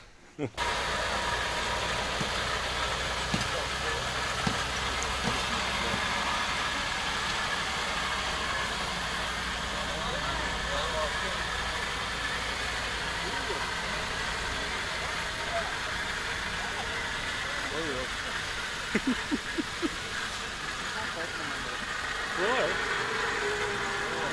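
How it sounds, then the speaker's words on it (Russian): A steady all-terrain vehicle engine drones and idles throughout at a constant level, with people talking faintly underneath. "мотор сейчас зачахнет"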